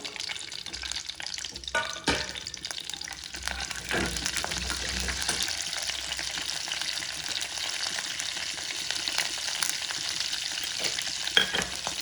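Cumin seeds crackle in hot mustard oil for a pakora kadhi, a steady close-up sizzle with a few light clinks of a utensil and no talking.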